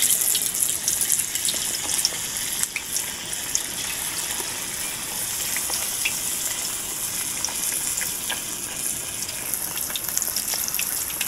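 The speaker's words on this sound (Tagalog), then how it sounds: "Okay na po itong prito natin" Chicken pieces fry in oil that sizzles and crackles continuously in a loud, even hiss, with scattered pops and spits throughout; no one talks.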